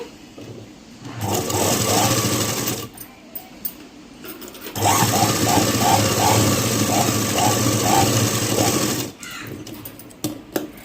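Close and loud, a sewing machine stitches down a folded edge on a blouse in two steady runs. The first is brief and the second lasts several seconds, with a rhythmic mechanical whir over a low motor hum.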